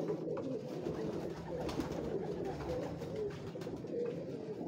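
Old-breed pigeons coo steadily in a dense, overlapping chorus that carries on without pause, loud and close, with no talking over them.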